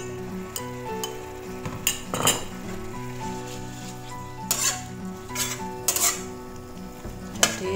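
Greens (kiwi and mustard greens) being stirred into boiling seasoning for Indomie goreng noodles: metal utensil clinks and scrapes against a pan over a soft steady sizzle, with several sharper clatters, close and moderately loud with no talk.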